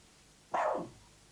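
A dog gives a single close bark, one short, full-bodied woof that fades quickly into a quiet background.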